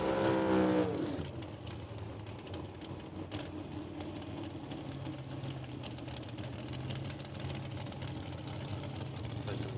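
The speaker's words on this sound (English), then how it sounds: "Some short, sharp burnouts here for Abby McDonald and Dave Porter." Drag racing cars perform short burnouts at Willowbank Raceway, a brief high engine roar at the start giving way to a steady, distant low engine rumble and crowd ambience.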